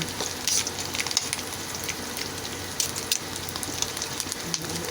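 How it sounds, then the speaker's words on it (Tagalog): Dried squid frying in a pan, a steady crackling sizzle with scattered sharper pops close by, no talk, part of a home breakfast cook. "Inirito na po natin yung ating pusit"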